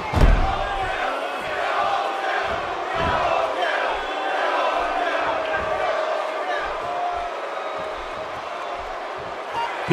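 A packed WWE wrestling arena crowd roars steadily through a John Cena versus Kevin Owens bout, with a loud surge at the start and scattered thuds beneath the dense, continuous cheering.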